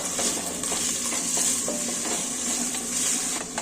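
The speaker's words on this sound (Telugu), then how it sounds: "ఆలు, క్యారెట్, కాలీఫ్లవర్ అన్నీ వేయించుకోవాలండి నెయ్యిలో." Potato, carrot and cauliflower frying in ghee for a mixed-vegetable masala khichdi, with a dense, close sizzle and repeated stirring scrapes running continuously with no talking.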